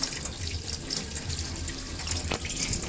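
Water added a little at a time to a pot being scrubbed clean, a soft steady trickle and splash running throughout at close range with no talking.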